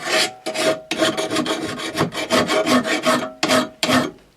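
A hand file rasps across a Craftsman lawn mower blade in about ten close, loud, rhythmic strokes, each a harsh scraping sweep with short pauses between, and no voices.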